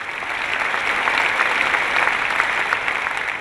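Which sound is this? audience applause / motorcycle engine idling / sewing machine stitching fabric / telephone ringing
audience applause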